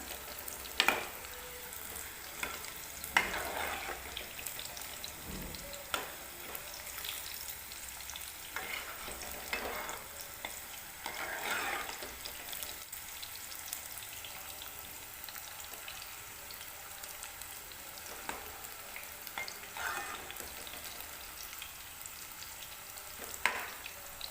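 Mushrooms roasting in a pan until light brown for matar mushroom, a soft, low sizzle with occasional spatula scrapes and stirring knocks, faint and fairly distant, no talking.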